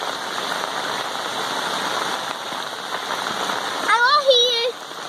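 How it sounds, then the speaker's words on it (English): Heavy rain pours steadily at a flooded campsite, with rushing water from a nearby waterfall forming a loud, continuous hiss, and a voice briefly speaking near the end. "There's waterfall over there too, look."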